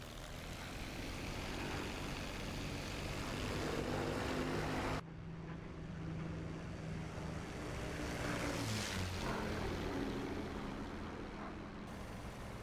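A Bf 109 K4 propeller warbird engine in the DCS flight game drones loudly and continuously. Its pitch and tone shift as the throttle opens, with a brief break partway through before the steady roar resumes.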